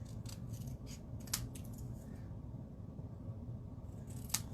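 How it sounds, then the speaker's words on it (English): Scissors fussy cutting around a stamped paper design for a rustic card project, a few short crisp snips spaced through steady low room noise, close and fairly quiet with no talking. "I'm going to go and just fussy cut, I guess they call that"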